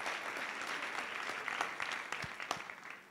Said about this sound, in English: Would you please give them also a big hand of applause?